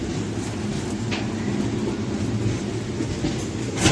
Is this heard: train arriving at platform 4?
yes